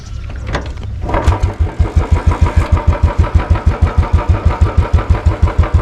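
A 2013 Royal Enfield Classic 350 motorcycle with its stock silencer cranks and fires up, then settles into a loud, steady, evenly thumping single-cylinder idle close by, with no speech.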